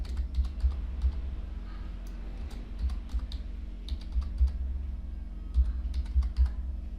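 Typing an email address on a computer keyboard, with a steady run of light, quick key clicks in uneven bursts over a faint low hum.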